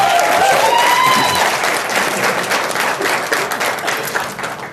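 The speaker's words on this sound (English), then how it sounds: "Let's give Bobby a big round of applause." Audience at an evening political campaign event in New Jersey breaks into loud, dense sustained applause that fills the space and eases off slightly toward the end, with a brief voice near the start.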